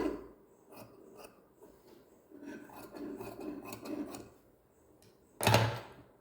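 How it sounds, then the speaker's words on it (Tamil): Scissors cutting lining cloth for a newborn baby gown, soft rasping snips and rubbing close by, then one louder scrape near the end. "லைனிங் கிளாத்தில் தேவையான அளவு கட் பண்ணி எடுத்துடலாம்"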